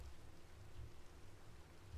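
Steady rainfall in the video game Minecraft, a faint, even hiss of falling rain with no voices over it.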